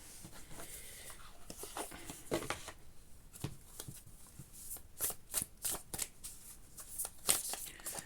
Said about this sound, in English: I'm going to get these cards out just to have a look.